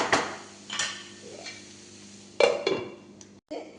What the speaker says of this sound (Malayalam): ഒന്ന് നന്നായി ഇളക്കി വെച്ചിട്ട് ഒന്ന് മൂടി വയ്ക്കാം കേട്ടോ.